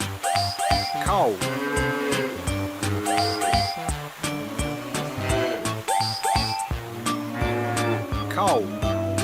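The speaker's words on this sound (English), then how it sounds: "Cow." A cow moos several times in a repeating pattern, loud and close, mixed with music and voices.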